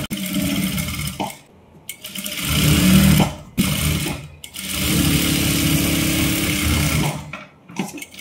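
A sewing machine stitches a silk princess-cut blouse in long, loud mechanical runs, with short pauses between bursts and no talking.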